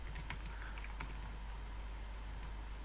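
Keys on a computer keyboard tapped in a short, quiet burst of close clicks that thin out under a steady hum.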